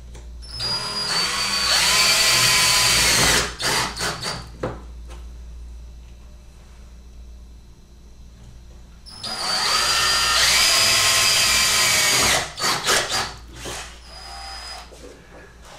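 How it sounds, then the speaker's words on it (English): A power drill bores holes into a wall to mount a solar generator. There are two loud, sustained drilling bursts separated by a pause, each ending with short stuttering pulses and clatter. No one speaks. "I'll mark the holes through the feet on the back"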